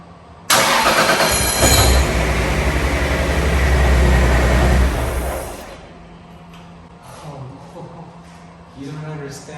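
A rebuilt Toyota Supra MK4 engine cranks and catches with a sudden loud roar, running rough and strong for about five seconds before dropping off, followed by quieter clatter and people talking nearby.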